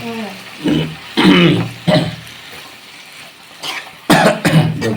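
A person coughs several times in short bursts, close and loud, with quiet gaps between, and a second cluster of harsher coughs near the end.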